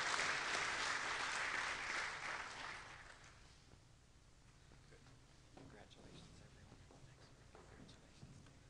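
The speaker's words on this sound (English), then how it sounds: "Let's have a round of applause for our new inductees in the Fellows of the Graduate School." Audience applause at a 2017 faculty awards ceremony, a dense burst of clapping that fades after about three seconds into scattered claps and murmuring.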